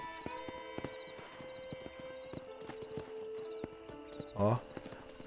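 Horse hooves clip-clop in steady repeated beats inside Red Dead Redemption, with a short loud neigh near the end over a constant game soundtrack.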